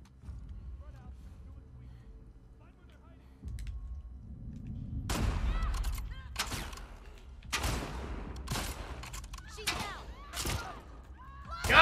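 Gunfire in the video game The Last of Us Part II on PS4: after a quiet stretch, a burst of several sharp, loud shots in irregular succession.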